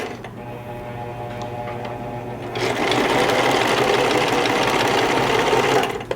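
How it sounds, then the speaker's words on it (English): Home sewing machine stitching fabric, a steady mechanical whir with rapid needle clatter that grows louder and faster partway through, then stops abruptly. "And then with the needle down, lift up the presser foot, turn it so it's straight again, and then continue sewing again"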